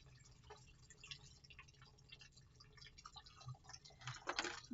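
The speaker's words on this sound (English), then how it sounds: "If the dentures are soaking in cool water already, you're going to go ahead and empty that." Cool water emptied from a denture soaking container, heard as faint, scattered drips and light trickles close by in a quiet room.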